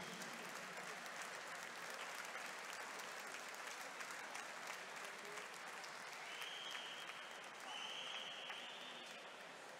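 Crowd applause for medal-winning swimmers in the 50 metres freestyle at a podium ceremony, a continuous, even roar of clapping for nearly ten seconds, heard from some distance, with no speech.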